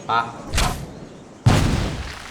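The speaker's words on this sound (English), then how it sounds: "Use these grenades to destroy that door." Grenades hit a door in Assassin's Creed Rogue, giving two heavy booming thuds about a second apart, each followed by a rumbling crash that fades slowly.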